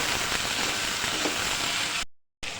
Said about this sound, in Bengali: এবার চিংড়ি মাছগুলোকে সুন্দর করে ভেজে নেব।